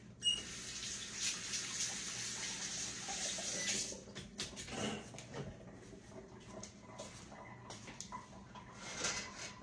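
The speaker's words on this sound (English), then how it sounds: "Let me wash my hands now" Water running steadily from a kitchen tap for hand washing, close and fairly soft, then cutting out into intermittent splashes and handling sounds.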